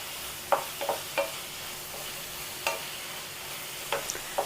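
Onions frying with crushed garlic and ginger are stirred in a pan, giving a soft background sizzle broken by a handful of sharp spoon scrapes and clinks against the pan, close but fairly quiet, no voices.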